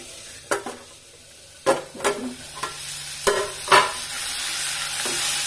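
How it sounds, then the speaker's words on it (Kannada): Tomatoes and green chillies fry in a pan, a soft steady sizzle broken by several sharp knocks and scrapes of a spoon stirring against the pan, with no talking. "ಸಾಫ್ಟ್ ಆಗುವಂಗ ಒಂದು ಸ್ವಲ್ಪ ಇದನ್ನ ಹಂಗ ಫ್ರೈ ಮಾಡ್ಕೋಬೇಕು."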